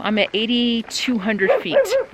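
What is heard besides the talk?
dog barking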